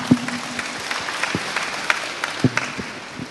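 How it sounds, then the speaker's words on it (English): Modest audience applause for guest speakers at an IPv6 conference event, a soft wash of clapping with a few sharper individual claps standing out. "Please give them a round of applause"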